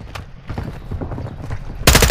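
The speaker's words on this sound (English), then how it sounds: "I hear gunshots." A burst of loud, dense gunfire erupts near the end after quieter rustling and scattered thuds, rapid shots in Warzone DMZ in Al Mazrah.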